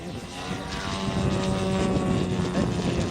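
A 40% scale Jungmeister aerobatic biplane model flies overhead with a loud, steady engine drone and sustained humming tones that slowly swell.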